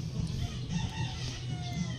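Chickens kept as backyard birds, a pair of them, cluck softly in a steady low murmur beneath a constant background hum, with no voices.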